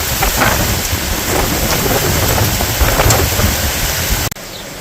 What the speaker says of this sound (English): Again, lots of thunder.